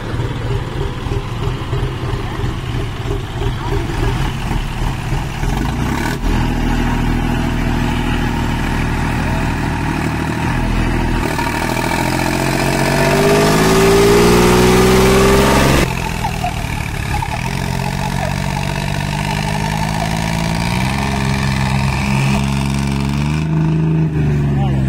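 A heavy John Deere tractor engine (5042D and 5036D models in a pulling test) rumbles and revs up and down nearby, with voices talking over the noise.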